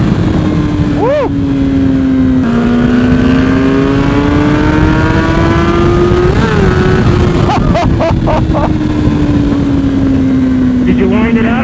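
A Ducati Panigale V4 motorcycle engine runs loud and close, its pitch rising and falling through long revving pulls over about twelve seconds, with people talking over it.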